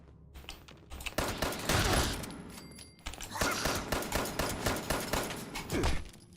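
Gunfire in Fallout 76, bursts of rapid shots in two loud clusters separated by a brief pause, close and dense with rattling automatic fire, no talk over it.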